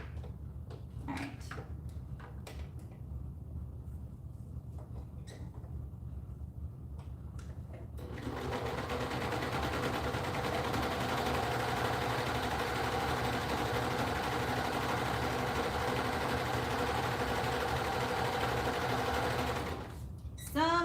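A sewing machine freshly fitted with new needles runs smoothly in a quiet workroom, starting after several seconds of clicks and handling noises, then humming steadily and evenly for about twelve seconds before stopping with a few clicks.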